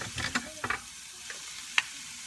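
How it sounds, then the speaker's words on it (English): Cauliflower and scrambled eggs fry quietly in a pan with a faint steady sizzle, punctuated by a few brief scraping stirs near the start and one sharp clink later on. "you just kind of have to keep stirring them so they don't burn"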